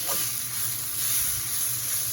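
Shrimp frying in a pan, partway cooked, for pasta with fresh vegetables and tomato sauce: a steady, dense sizzle and hiss, close and even throughout, with no talking.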